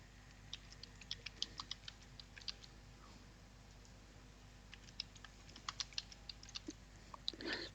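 A new password is typed on a computer keyboard, a quiet, irregular run of close key clicks in short bursts over faint room hum.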